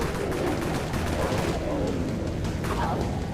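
An X-Dusk MAG gun fires in rapid succession in the zombie shooter game Dead Frontier, a dense loud barrage of shots with faint speech underneath.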